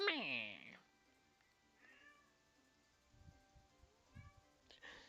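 A cat gives one loud, drawn-out meow right at the start, followed by a couple of shorter, softer mews. Quiet speech runs between the calls.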